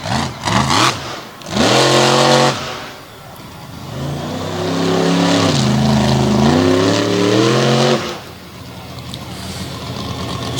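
Monster truck engine at a best trick competition in Greensburg, PA, revving hard in loud surges, rising and falling in pitch, close and dominant, with a brief lull before a long sustained roar.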